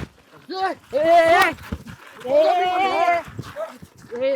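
Dogs bark in short, sharp bursts mixed in with loud, excited shouting voices, close by, during a scene from a Marathi drama series.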